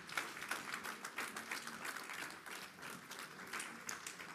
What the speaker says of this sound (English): Can we give the Lord a round of applause?